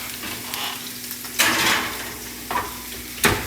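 Broccolini sears in a hot sauté pan with a steady frying sizzle, broken by louder hissing bursts as the stalks are stirred and rolled around, alongside salmon cooking.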